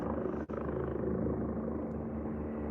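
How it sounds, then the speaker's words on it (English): A helicopter drones steadily overhead above a small lake in a park, a continuous low rumbling throb holding at a moderate, fairly even loudness without voices. "Oh, look, there's a helicopter."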